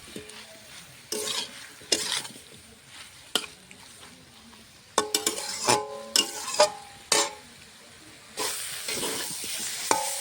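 Spinach with its stems and potato sautéed with spices in a pan, stirred in bursts: repeated scraping, clattering strokes over a low sizzle, close by with no talk.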